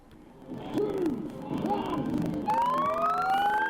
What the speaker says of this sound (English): Sirens ring out as the first cars cross the border from New South Wales into Victoria